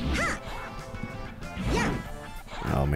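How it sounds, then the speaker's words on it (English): A Pomeranian barks in the video game Mister Mosquito, giving a few short, yappy barks spread across the moment, fairly loud and mixed with game music and other sounds. "Is that a Pomeranian?"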